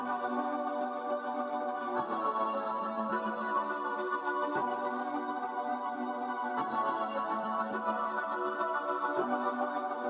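A Portal Mystic preset layer with chorus, wideners and a limiter forms a dense, shimmering sustained synth texture, steady in level, with faint rhythmic pulses recurring every second or two.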